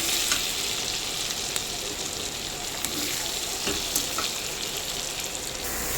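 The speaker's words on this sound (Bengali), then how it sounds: "এবার একটু জিরের গুঁড়ো দিয়ে দিলাম, দিয়ে ভালো করে নাড়িয়ে নেব।" Chopped tomato with cumin powder sizzles steadily as it fries in a pan, with scraping stirs and small crackles over the constant hiss, close and alone without talk.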